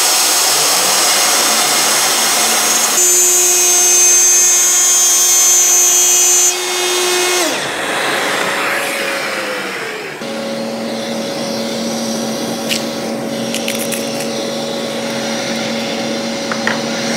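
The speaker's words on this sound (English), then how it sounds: "One's got to be careful, of course, this time not to allow the router to go wandering off into the middle of everything" A handheld router cutting a piece of wood gives a loud, sustained high-pitched whine that holds steady, dips as the bit slows near the middle, then picks up again at a different pitch, with no talk over it.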